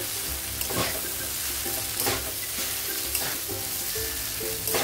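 Noodles stirred and tossed in a hot pan, a steady dense sizzle with rhythmic scraping strokes of the spatula recurring about once a second, close and continuous.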